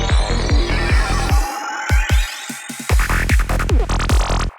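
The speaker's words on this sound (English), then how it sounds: "So in this example in here, we have these hits, a little snare roll" An electronic dance music transition from break to pre-drop, with punchy open hi-hat hits and kick-like thumps in a choppy rhythm, leading into a quick snare roll near the end, loud and close.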